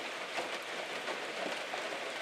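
Rain falling in the Alaskan wilderness, a steady, moderately loud hiss of rainfall pattering on surfaces with slight swells in intensity and no voices.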